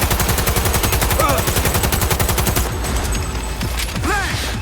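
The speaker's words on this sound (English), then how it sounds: "Wanna see them bullets flying?" Rapid automatic gunfire from the Cyberpunk 2077 video game, a dense burst of evenly spaced shots for about three seconds, then scattered shots and ricochet-like chirps, loud and close with no talk.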